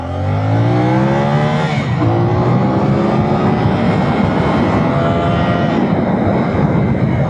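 A 450 cc motorcycle engine, still not fully warmed up, revs hard and loud at close range, its pitch climbing and falling through sustained high-rpm pulls with no voices over it.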